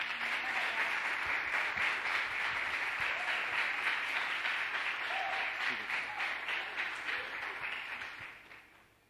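A church congregation at a family conference gives a couple a long, loud round of applause, many hands clapping in a thick sustained wash that fades out at the end.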